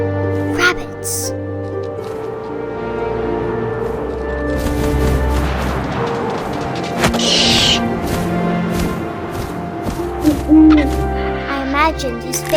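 Owl hooting in the video game What Remains of Edith Finch, soft hoots amid wind and a layered musical score, with a narrating voice speaking over it.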